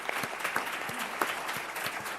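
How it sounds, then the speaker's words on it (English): Audience applause at a board meeting, a steady wash of many hands clapping throughout, with a few sharper individual claps standing out. "Let's give them a round of applause"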